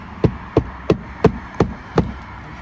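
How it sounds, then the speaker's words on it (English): A nail being hammered into a corner piece, six evenly spaced, sharp close-up blows in a steady rhythm, with no voices. "Make sure to hammer it in just like that."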